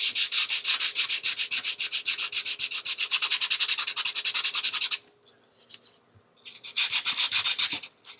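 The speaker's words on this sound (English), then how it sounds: "get a razor blade to scrape that off" Razor blade scraping epoxy off a stone counter, rapid rhythmic close scraping strokes in two long runs separated by a short quiet pause.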